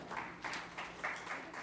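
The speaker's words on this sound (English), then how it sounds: "Let's have a round of applause for them" An audience at an industries and SME summit gives a round of applause, soft and somewhat distant, with a few pulsing swells over a second and a half.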